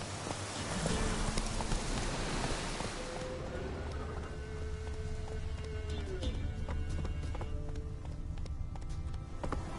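A horse galloping in The Witcher 3, rapid hoofbeats over a rushing wind-like bed that eases into a slower clip-clop, with game ambience around it.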